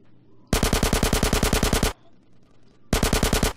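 Automatic gunfire in GTA San Andreas, a long rapid burst of loud evenly spaced shots, a short gap, then a second burst, close and harsh with no talk over it.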